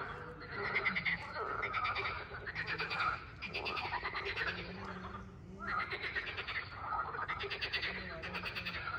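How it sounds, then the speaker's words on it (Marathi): Frogs croak loudly at a waterside spot in Giethoorn, Netherlands, a dense chorus of rapid, rasping calls pulsing in waves throughout and close by. "डेंजरच ओरडतात इथली बेडकं."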